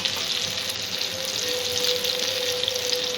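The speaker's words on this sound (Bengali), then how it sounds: "একসঙ্গে সব মাছ ভেজে নেওয়া যাবে না, তাই দুটো করে ভাজছি।" Steady, loud frying sizzle of catfish pieces, two at a time, in a pan over low heat: a dense crackling hiss that runs unbroken throughout with no voices.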